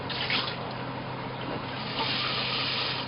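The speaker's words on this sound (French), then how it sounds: "Et on laisse de l'eau dans la casserole." Steady running water pours into a saucepan, a continuous hissing splash with no pauses and no voices.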